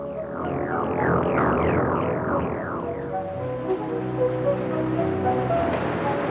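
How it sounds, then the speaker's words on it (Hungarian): A cool rain shower falls in a 1987 animated cartoon as a steady broadband hiss. A quick run of descending whistling tones sounds at the start, and the rain keeps going throughout with no talk. "Hurrá, itt az eső, hurrá"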